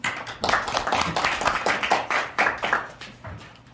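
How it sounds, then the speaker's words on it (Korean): An audience at a Korea University keynote lecture on inter-Korean health cooperation claps to welcome the speaker, a close, uneven patter of claps that fades toward the end. "여러분 나오실 때 뜨거운 박수로 환영해 주시면 고맙겠습니다"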